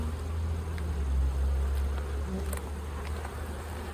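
Honey bees buzzing around an open hive during a fall inspection, a loud close continuous drone with a steady hum that swells slightly and stays constant, no voices.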